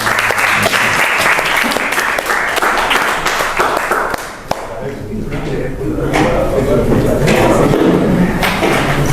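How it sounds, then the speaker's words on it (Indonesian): Applause from a class fills the room in a sustained burst of clapping, loud and close, briefly dipping in the middle before swelling again; a voice speaks over it. "Tepuk tangan untuk semuanya ya."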